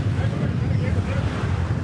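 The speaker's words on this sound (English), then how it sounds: "Although it's a bit windy today." Steady low rumble of wind pressing against the microphone on a beach in Cancun, Mexico, dense and continuous, with a faint wash of surf behind it.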